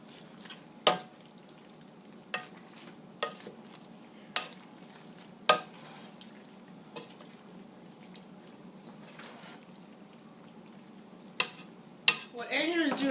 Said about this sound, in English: Now Dylan is mixing the two parts together.